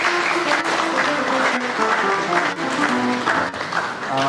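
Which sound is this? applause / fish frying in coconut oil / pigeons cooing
applause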